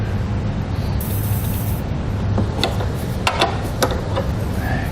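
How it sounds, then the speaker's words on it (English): Aerosol lubricant sprayed onto rubber exhaust isolators on a 2015 Honda CR-V: a steady hiss of spray over low background rumble, with a few short clicks and ticks near the end, and no talking. "We're going to spray down our rubber isolators and remove them off the pegs."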